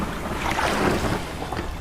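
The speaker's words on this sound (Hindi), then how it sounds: "मदन नाव को खेकर किनारे पर चल दिया।" A boat rowed across water in a cartoon gives a brief, continuous watery rush and swash with no voices.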